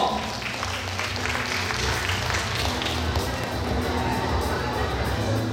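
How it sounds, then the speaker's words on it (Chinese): An audience at a model fathers' commendation ceremony for Father's Day in Longtan claps in sustained, lively applause, with crowd murmur and a voice speaking through it. "再一次热情掌声"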